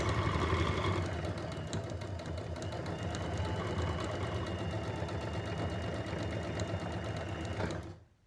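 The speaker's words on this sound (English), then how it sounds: "making sure I back stitch at the beginning and the end" Sewing machine stitching a two-layer fabric mask, a steady fast whirring run of needle strokes lasting several seconds before stopping abruptly, close and even.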